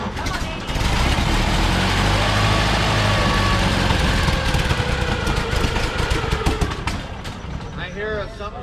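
A Ford Model A engine cranks and then runs with a loud, rough, close mechanical rumble. It settles briefly before fading near the end, and people talk over it.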